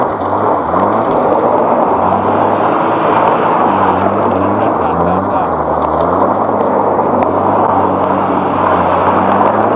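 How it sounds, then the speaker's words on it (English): A 400bhp Ford Sierra Cosworth engine revs loud and close, a steady rumbling drone with rising and falling pitch that fills the whole stretch, with people talking over it. "Go on. Give it some revs."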